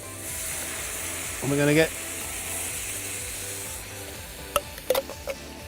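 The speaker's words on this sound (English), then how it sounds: "And then we're just going to slowly simmer it just to finish that venison through." Venison with gravy and lentils simmers in a pan with a low, steady sizzle, broken by a short burst of voiced talk and a few sharp clinks of utensils.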